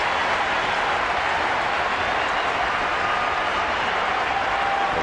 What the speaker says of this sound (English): the crowd starting to make some noise here